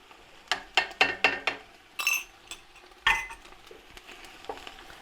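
Spoon clinking and scraping around a pot while tomato is stirred into chunky ratatouille with onions, a quick run of sharp metallic knocks followed by a few scattered clanks, close and distinct.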